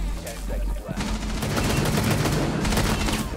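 Rapid bursts of gunfire from a shooter video game, dense and continuous, loud and close throughout.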